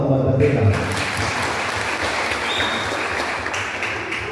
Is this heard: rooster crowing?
no